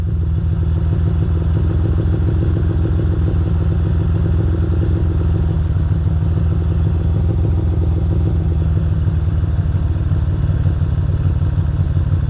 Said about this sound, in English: You can see when one of the cylinders kicks out because the idle drops.